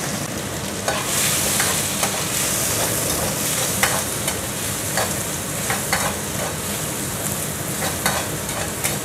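Shrimp stir-frying in a pan for a spicy tumis: a constant close sizzle broken by repeated scraping strokes of a spatula at an irregular, lively rhythm, with no voices.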